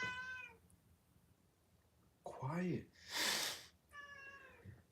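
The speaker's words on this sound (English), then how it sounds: "Ignore my cats." Cats meowing indoors during a home livestream: several clear meows, the last one a long drawn-out cry, heard close with a person speaking briefly before them.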